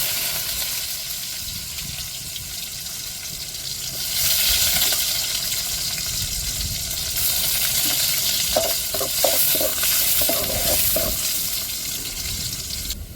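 Onions and mustard seeds fry in a hot pan with a steady sizzle, the hiss swelling louder after ingredients are added, with light stirring clinks and scrapes near the end.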